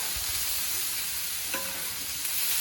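Onions and garlic fry on a sheet of hot metal in a venison stir fry, producing a steady, loud, close sizzle with one brief scrape of stirring partway through.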